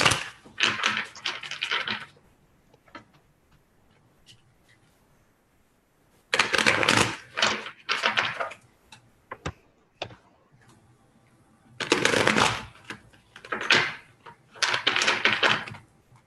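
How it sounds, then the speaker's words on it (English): A deck of cards is shuffled in three separate bursts of rapid riffling and flapping, close and clear, separated by quiet pauses with a few small clicks. "Okay, I'm going to focus on shuffling."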